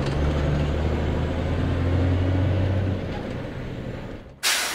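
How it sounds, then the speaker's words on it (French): A tanker truck parked on a quay pumps wine into a ship's wine tank, giving a loud, steady engine and pump drone with low hum tones that ease off, then a short sharp hiss burst at the end. "On est en train de la remplir grâce au camion-citerne qui stationne sur le quai."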